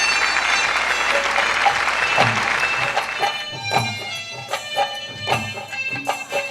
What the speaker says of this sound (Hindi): इन सभी के लिए एक बार जोरदार तालियां बजाकर हौसला अफजाई करें।